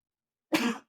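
A single short, explosive burst of breath, like a sneeze, sharp at the start and then trailing off, heard up close with no talking.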